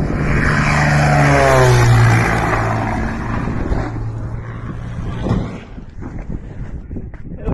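A small airplane attempts a takeoff, its loud engine drone with a falling pitch sweep overlaid by heavy wind noise, fading toward a rougher, gustier end.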